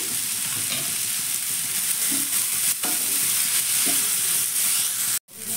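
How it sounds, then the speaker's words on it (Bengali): Onion and capsicum, salted, frying in a pan, with a steady bright sizzle and scattered scrapes of stirring, ending in a brief drop to silence near the close. "পেঁয়াজ আর ক্যাপসিকামটা কিন্তু এখানে ভাজা হয়ে গেছে।"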